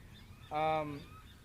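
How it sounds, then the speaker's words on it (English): A single harsh, honking gull call rings out close by for about half a second against a faint background, while seagulls flock outdoors. "the seagulls are going crazy"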